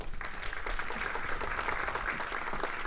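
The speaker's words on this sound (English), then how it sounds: "Can we give them a little round of applause?" Conference audience clapping for panelists, a steady wash of many hands throughout the short stretch, fairly close and full, with no distinct speech over it.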